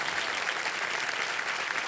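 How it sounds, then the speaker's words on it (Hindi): A television game-show studio audience claps loudly and continuously, a brief burst of thick, even applause with no talk over it. "जोरदार तालियां"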